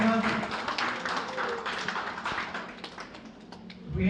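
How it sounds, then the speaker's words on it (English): Applause from an audience at a Goan community feast celebration in Hounslow, a dense, steady patter of many hands clapping close by for about four seconds, with voices mixed in underneath. "A big hand of applause to Madam Nupur"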